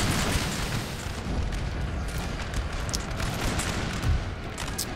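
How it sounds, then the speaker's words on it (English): Napoleonic-era artillery grand battery firing in a Total War battle, a continuous dense rumble of overlapping cannon booms and distant musketry forming a steady wall of battlefield noise. "Actually, I want all my artillery. I can't get them to stop firing."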